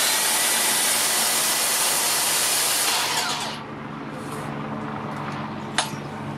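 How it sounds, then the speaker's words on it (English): Makita DG001G 40V cordless earth auger running with a loud, steady high-pitched motor whine that drops in pitch and eases off partway through, then continues at a lower level with a sharp click near the end. "coming in at number 2, the DG001G 40V Earth Auger"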